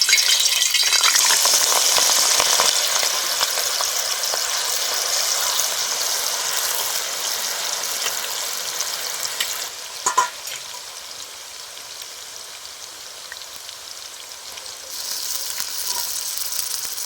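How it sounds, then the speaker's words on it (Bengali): Shredded potatoes fry in hot white oil for wedding-style jhuri aloo bhaja, a loud hissing sizzle when they go in that settles into a steady, softer crackle, with a brief clatter midway and no talk. "দেখুন এবার তেলের মধ্যে দিয়ে দিচ্ছি।"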